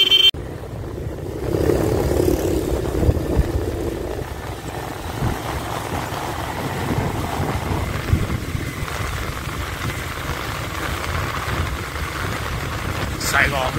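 A motorbike rides through Saigon streets at night near Binh Dien market in District 8, its engine humming steadily with wind and traffic noise, and voices are faintly heard in the mix.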